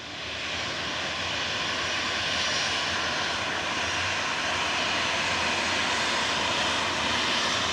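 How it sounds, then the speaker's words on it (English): A Saab 340 turboprop takes off at Perth Airport, heard from the observation deck as a loud, steady engine roar and whine that holds and slowly swells throughout. "we've also got a wrecked Saab 340 taking off to destination"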